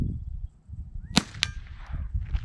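Two sharp suppressed gunshots from a handgun fitted with a suppressor, close and fairly quiet, spaced about a quarter second apart over low background rumble.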